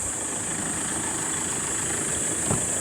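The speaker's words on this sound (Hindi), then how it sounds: "बाहर भी काफ़ी इंजन नॉइज है इसकी।" A 2014 Toyota Innova engine idles with a steady, even hum and low mechanical rumble heard from outside the vehicle, constant and unbroken without speech.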